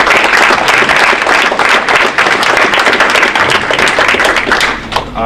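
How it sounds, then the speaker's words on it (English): Loud, sustained applause fills a varsity athletic awards gathering of students, parents and guardians, dense clapping running steadily throughout before easing slightly at the end. "So, round of applause for all you guys."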